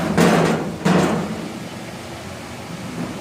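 A hammer strikes a 1955 truck cab panel twice in quick succession, loud and close, each heavy metallic blow fading into a short ringing decay before the shop falls quieter.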